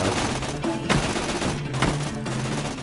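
Gunfire in the video game Tales from the Borderlands: a couple of sharp shots cracking through a busy, noisy game soundscape.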